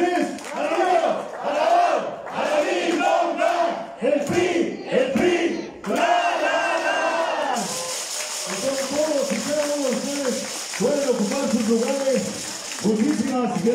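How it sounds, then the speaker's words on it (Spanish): Crowd at a political party event in Izúcar de Matamoros chanting rhythmic, voiced slogans in unison, then breaking into sustained cheering with applause and whistling. "Gracias, duro el aplauso fuerte"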